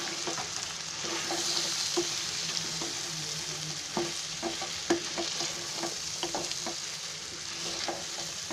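Coriander being stirred into a frying pea pulao mixture in a pan, with a continuous sizzle and repeated stirring scrapes and taps of a spoon against the pan, no speech.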